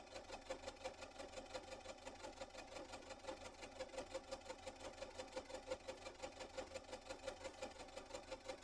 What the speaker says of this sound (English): I love the sound of the sewing machine.